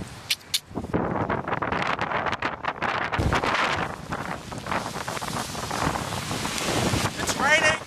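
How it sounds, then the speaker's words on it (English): Rain and gusty wind at Waitangi Park, a waterfront park in Wellington, rough continuous rushing noise with heavy microphone buffeting, loud and close, and a person speaking intermittently underneath. "Very rainy and windy."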